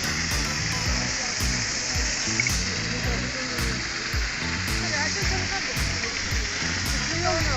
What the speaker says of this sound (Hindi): एक और झरना आ गया।